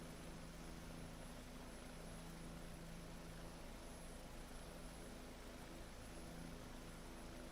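A Bell 407 helicopter in X-Plane 11 spools up its rotors, giving a steady, loud turbine whine and rotor drone with a constant hum that holds throughout, no voices.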